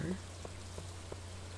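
Rain falling in the farming game Stardew Valley, a soft, steady patter with a few sparse droplet ticks over a low constant hum, heard alone without voices.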